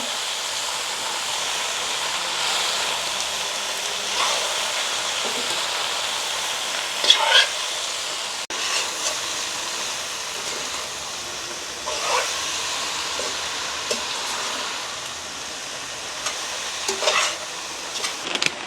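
Rice noodles are stirred in a cooking pan in a village kitchen. A continuous hissing sizzle runs throughout, with occasional utensil scrapes and taps rising above it.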